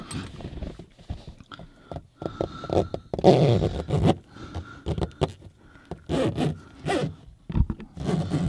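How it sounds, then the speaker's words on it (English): Zipping shut the zippered headliner of a 1989 Porsche 911 Carrera 964, with a series of short, close rasping zipper pulls in uneven bursts, interrupted by brief pauses and light rubbing and handling noises. "And then I'll zip this closed."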